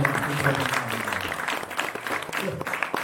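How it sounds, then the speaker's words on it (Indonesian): A crowd applauding steadily at the opening of a student organization meeting, dense clapping throughout with voices mixed in. "Mari kita beri tepuk tangan buat ini"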